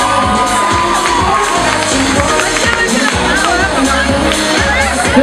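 An audience at the Miss Fashion 2016 semi-final applauding and cheering as a finalist is announced: a loud, dense wash of clapping with shouts and whoops, and voices mixed into the crowd noise.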